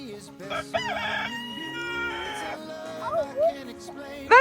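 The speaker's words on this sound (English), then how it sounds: "That's a rooster!" A rooster crows on a farm, its drawn-out call rising and falling over a few seconds, with a child's and adult's voices chattering around it and background music under everything.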